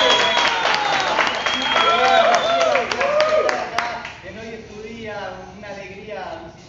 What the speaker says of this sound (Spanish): Cristian Puro, un aplauso.